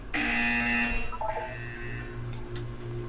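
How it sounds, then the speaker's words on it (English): A loud electronic buzzer in Portal 2 blares for about a second, followed by a quick descending series of synthetic tones over a low humming background. "You will hear a buzzer."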